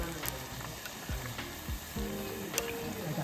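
Mugwort leaves deep-frying in hot oil, a steady low sizzle with occasional pops and bubbling, close and fairly quiet with no talk.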